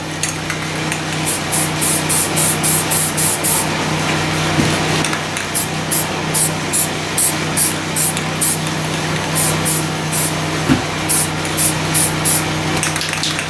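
Paint is being sprayed onto a grain grinder in bursts, a steady hissing spray punctuated by rapid rhythmic pulses of aerosol or spray-gun release, close and loud, with no talking.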